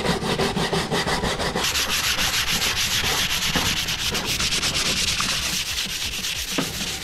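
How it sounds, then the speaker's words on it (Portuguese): Sandpaper rubbing steadily over old painted playground wood to strip flaking paint, a loud, continuous scratchy rasp of repeated close strokes with no talking. "e o Jamie vai passando a lixa já pra deixar pra não ficar nenhuma escama de tinta pra cima"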